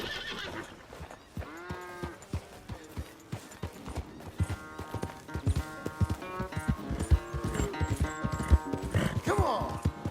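Horse hooves clip-clop in a steady rhythm alongside neighing and whinnying, with game music playing underneath throughout, in Red Dead Redemption 2.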